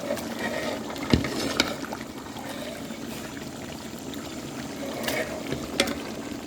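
Water is poured into a pot of meat masala for Dindigul-style biryani, a continuous soft trickling stream with a few sharp clinks of metal vessels.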